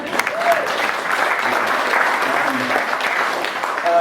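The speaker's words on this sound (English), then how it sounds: "really you should give yourself a clap" A crowd at a book launch in Sixmilebridge applauds steadily for several seconds, with a dense, even wash of clapping and faint voices underneath.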